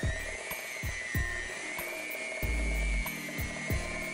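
An electric mixer beats flour into 7 Up pound cake batter with a steady, high motor whine, while the beaters knock against the bowl at regular intervals.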